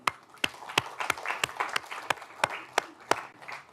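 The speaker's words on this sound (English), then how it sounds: "and round of applause to you all." End-of-semester applause from a university computer science class, with a steady run of sharp claps above a softer background of scattered clapping, moderately faint.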